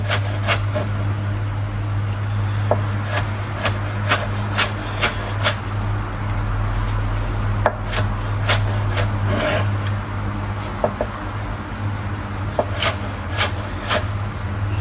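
A kitchen knife chops chimichurri ingredients on a board, making a string of crisp, irregular taps and scraping rubs over a steady low hum.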